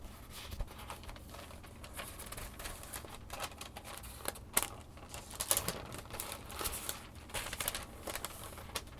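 Soft, papery rustles and light flicks as thin pages are turned one after another, close by and quiet, with no voices.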